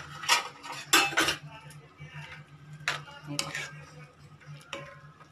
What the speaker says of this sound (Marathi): आणि कोथिंबीर टाकणार आहोत आणि परत एकदा हलवणार आहोत